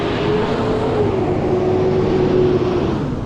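An old flat-nose school bus engine drones loudly and steadily on a city street, a thick, rough idle-like roar with a faint whine running through it.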